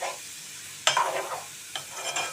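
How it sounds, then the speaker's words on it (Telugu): Dried fish fries in a pan with a soft sizzle, broken by a few stirring scrapes and clinks. "ఎండు చేపలు చాలా వరకు వేగాయి బాగా వేగాయండి"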